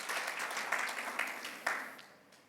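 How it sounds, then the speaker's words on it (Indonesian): A church congregation applauds at a Sunday worship service, a soft, steady wash of many hands clapping heard from a distance that swells slightly, then fades away near the end. "berikan tepuk tangan yang panjang bagi Tuhan Yesus"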